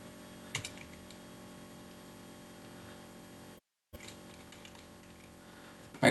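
Soft, faint clicking on a computer keyboard while a player name is typed into a web page, a quiet steady patter with a brief gap of silence and a louder burst at the end.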